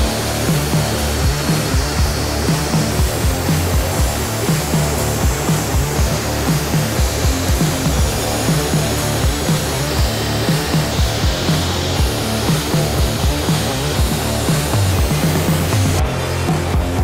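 A grinder works steadily against a knife blade in a grinding room, a loud continuous abrasive whine with rhythmic pulsing throughout.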